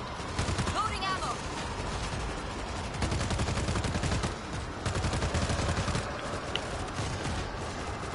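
Rapid bursts of gunfire crackle through a World War Z zombie fight, dense repeated volleys and machine-gun rattles in clusters across the scene, with players talking over the shooting.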